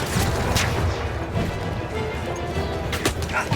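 Gunfire from the World War I shooter Battlefield 1 at Cape Helles, a burst of sharp cracks and heavy booms layered over a dense, noisy battle din, fairly loud and without speech.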